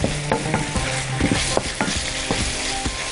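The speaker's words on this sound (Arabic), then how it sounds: "البصل هنا أهو بشوحه مع الثوم تشويحة حلوة" Onion and garlic sautéing in a pan as a side for freekeh-stuffed chicken and courgette: a loud, close sizzle broken by repeated scraping stirs and clinks of a utensil, with no talking.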